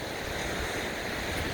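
Ocean surf rolling onto a beach on Kauai's Kalalau Trail coastline, a steady broadband wash of breaking waves with a light wind rush, continuous and fairly close, no voices.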